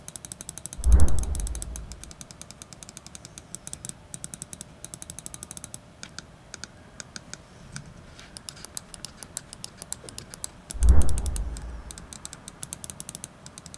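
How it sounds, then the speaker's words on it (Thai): The buttons of a Darmoshark M5 Air fingertip mouse, whose switches need slightly more force than ordinary Huano switches, click in a fast, steady stream of crisp, close taps, broken by two heavier thumps. "ใช้แรงในการกดมากกว่าเมาส์พลาสติกทั่วไปที่ใช้สวิตช์ Huono นิดหน่อยฟังเสียงคลิกกันครับ"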